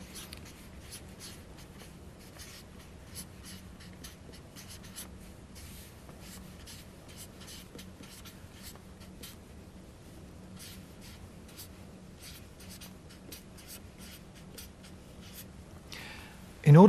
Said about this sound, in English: I'll write this out again.